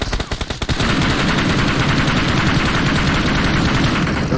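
Rapid automatic gunfire from PUBG Mobile, a military battle-royale game, rattles loudly in dense sustained bursts after a few separate opening shots, and it fills nearly the whole stretch.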